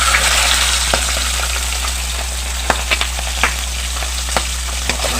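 Dried milkfish (daing na bangus) frying in hot oil gives a steady loud sizzle with scattered sharp pops and spatters, close up and without talk.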